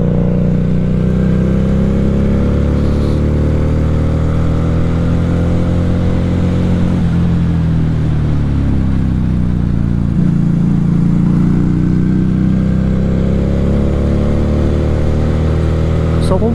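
A motorcycle engine runs close and loud throughout, its pitch climbing and falling as the rider accelerates and eases off.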